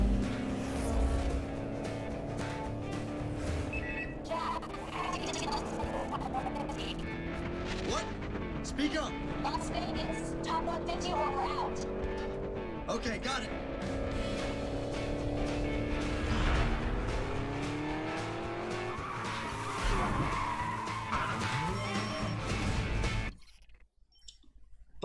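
A Porsche race car drives in the Need for Speed The Run video game, with steady engine drone, rising revs, shifting tones and occasional clicks and impacts under continuous talk, then a sudden drop near the end.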